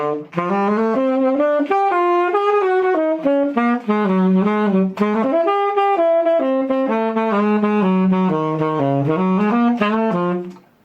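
A single melodic instrument plays a continuous run, sidestepping chromatically between two pentatonic scales, with smooth connected notes and slides sounding loud and close, with no talk.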